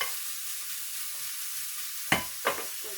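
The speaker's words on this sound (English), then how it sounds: "Bacon's rendering." Bacon rendering in a frying pan gives a steady, close sizzle throughout, broken by two brief louder scraping stirs near the end.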